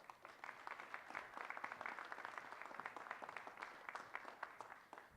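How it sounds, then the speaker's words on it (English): A round of applause fills a press conference marking 500 days until the 2026 World Cup, steady dense clapping from a crowd sustained for several seconds without a break. "I'll see you got a nice round of applause there"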